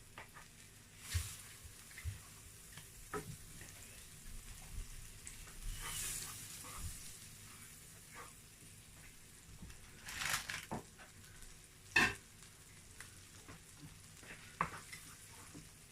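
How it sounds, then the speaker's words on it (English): Butter melts and sizzles in a pot before the garlic, ginger and leek go in for a seafood boil. A soft, steady fry hiss runs throughout, with scattered stirring scrapes and a few louder clatters near the middle. "So now I'm going to add my butter, this much."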